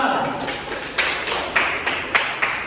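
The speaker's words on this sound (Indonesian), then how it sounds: "tepuk tangan untuk kelompok 2" A classroom of students claps for a presenting group during a micro-teaching lesson, with fairly quiet, rhythmic claps over background room noise.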